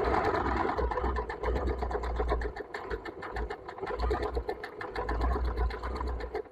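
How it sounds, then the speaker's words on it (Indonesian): A sewing machine stitching fabric as a beginner sews basic practice stitches, starting on the outermost circle line; a steady, close mechanical whirr with rapid needle ticking runs continuously in short bursts. "saya akan menjahit yang kedua"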